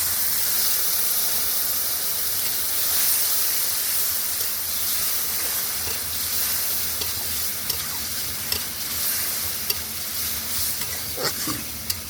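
Water poured into a hot pan with salt and turmeric for a pumpkin, potato and prawn dish sets off a continuous loud hiss and sizzle, broken near the end by a few sharp ladle knocks.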